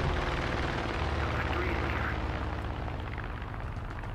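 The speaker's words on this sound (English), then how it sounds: "Uh-oh, I hear a plane." Aircraft engine drones in a War Thunder tank battle, a steady, rumbling roar holding throughout at moderate loudness with a faint hum underneath, no other sounds standing out.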